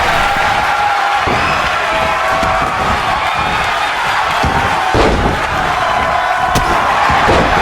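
Crowd noise from the WWE 2K24 wrestling video game: a loud, dense arena roar of cheering that holds steady throughout, with a few thuds and slams punching through.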